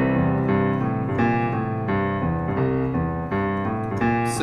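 Piano plays a cheesy classic 12-bar blues in C with 7th chords, chords struck in a loose bouncing rhythm, close and clear with no talking.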